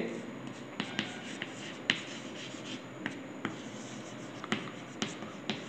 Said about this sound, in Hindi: तो यहां पर लिखना चाहिए